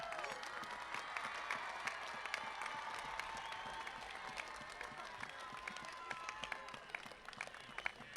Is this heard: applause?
yes